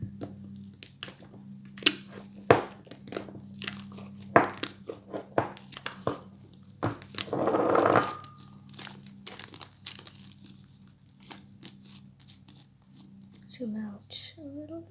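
Fluffy slime kneaded by hand with activator, giving repeated soft squelching crackles and crinkly pops close up, with a voice talking between the sounds.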